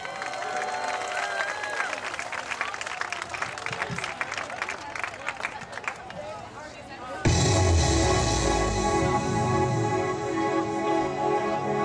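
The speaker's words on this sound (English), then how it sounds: "Let's give them a round of applause." Sustained crowd applause and cheering at a high school championship recognition ceremony, clapping building and then swelling louder and denser midway, continuous throughout with voices mixed into the noise.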